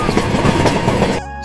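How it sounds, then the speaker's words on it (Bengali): A cartoon train rolls along the rails, a loud, close rhythmic clatter of wheels lasting about a second before cutting off abruptly. "তারপর রামু ট্রেনে করে শহরের উদ্দেশ্যে রওনা দিল"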